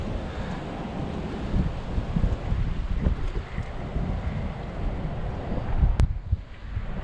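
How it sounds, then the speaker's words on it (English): Steady, heavy wind buffeting the microphone on a dock while fall fishing, a continuous low rumble and roar with gusts swelling throughout. "Wind is just ripping my bobber."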